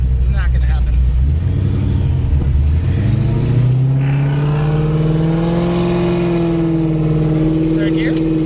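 Car accelerating hard through the gears during a cruise after a cars and coffee meet, engine note climbing in pitch, dropping at a shift, then rising and holding loud, with someone talking over it.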